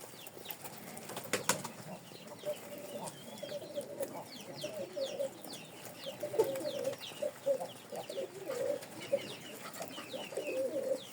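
Pigeons eat dry peas and feed them to their young, producing soft pecking, cooing and rustling with occasional brief wing flaps. The sounds are close and continuous, with no talking.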